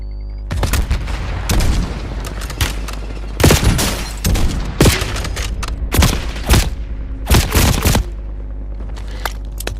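Loud, close gunfire in a Call of Duty Warzone match, with repeated sharp bursts and heavy booming shots spaced through the clip and brief lulls between volleys.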